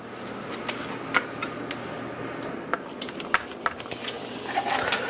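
A knife cutting 1.5 pounds of sirloin steak into 1-inch cubes on a board, a series of soft, irregular taps and clicks, close and quiet, with no talk.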